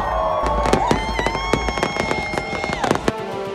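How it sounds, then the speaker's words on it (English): Fireworks burst outdoors at a lively night event, a rapid string of sharp cracks and pops close by with whistling tones rising through the barrage, loud and continuous with no talk over it. "Okay, I'm not showing you guys all the fireworks."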